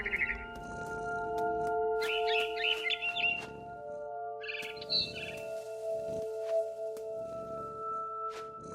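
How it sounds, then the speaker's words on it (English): Short bursts of high, bright chirps from a game bird in What Remains of Edith Finch come and go over looping background music, with steady clicks underneath. "Then I heard chirping outside my window."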